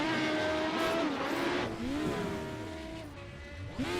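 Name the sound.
race car stuck in neutral, iRacing video game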